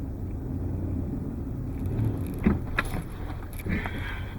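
A Lexus GX470 crawls over off-road obstacles with a steady low engine rumble inside the cabin, while loose items jangle and rattle in short bursts as the body jolts over bumps.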